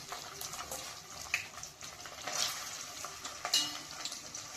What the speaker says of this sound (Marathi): सोयाबीन आपल्याला असे थोडे थोडे फ्राय करून घ्यायचे गरम तेलामध्ये।